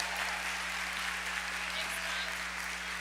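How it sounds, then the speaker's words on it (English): A crowd applauds the graduates at a high school graduation ceremony, a dense, even roar of clapping heard at a distance over a low steady hum, with no distinct individual claps. "all give all of our grads here today one big round of applause"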